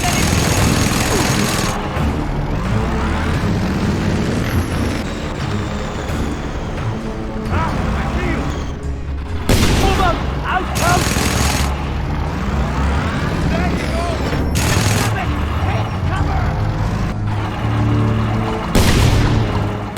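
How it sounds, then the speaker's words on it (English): Gunfire and heavy booms from the open-world shooter Just Cause 2 burst out in loud clusters over game music and engine rumble, while someone talks throughout. "where are these shots coming from?"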